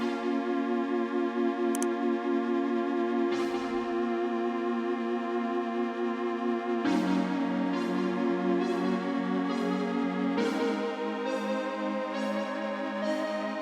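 A dry trap melody from an Analog Lab preset, with no effects, plays a looping chord progression of sustained tones with bright plucked note attacks recurring every few seconds, steady and clear with no voices.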